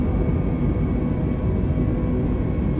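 Iberia A320neo jet engines in Microsoft Flight Simulator roar during the climb after takeoff, a steady, loud, dense rumble that holds an even level throughout, with no voices over it.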